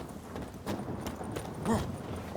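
Warhorse hooves clip-clopping in The Witcher 3, a soft steady walking rhythm under a low background wash.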